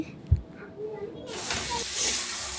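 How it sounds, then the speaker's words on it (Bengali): Meat sizzles and hisses steadily as it is fried in a pan in a home kitchen, with a soft knock at the start and the frying noise swelling into a broad, continuous hiss. "মাংসটা এখন কষিয়ে নিচ্ছি"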